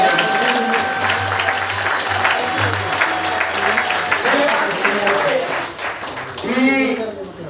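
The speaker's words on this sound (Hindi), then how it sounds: "एक बार जोरदार ताली।" An audience at a talk applauds in a steady, fairly loud stretch of clapping, while voices carry over it and a speaker talks near the end.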